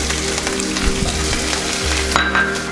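Chopped green chili, garlic and ginger stir-frying in a pan for mango pickle, a steady loud sizzle with a low rumble beneath and occasional scrapes of a stirring utensil, no voices.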